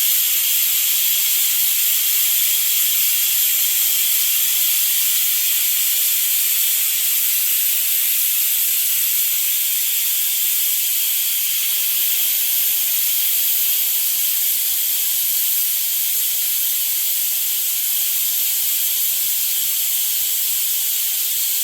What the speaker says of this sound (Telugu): విజిల్ వచ్చే ఛాన్సెస్ ఉన్నాయి.